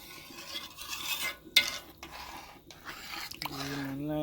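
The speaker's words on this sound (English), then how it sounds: "Give me one stir now." Rice being stirred in a pot for Jamaican pumpkin rice, with scraping and shuffling strokes of a spoon through wet grains, a sharp knock against the pot near the middle, and a voice briefly at the end.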